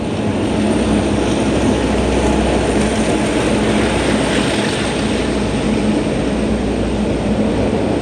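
A loud, steady rumble of a freight train passing close by, continuous and heavy throughout with no break.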